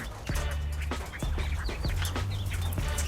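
Quail birds call close by with repeated short squawking, quacking-like notes over a steady low background hum, heard with no talking.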